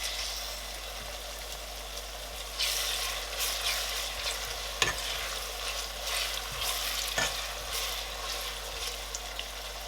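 Onions, ginger and garlic fry in a pan for a fish stew, a close crackling sizzle that swells after a couple of seconds and is broken by a few scraping stirs, with a low steady hum underneath.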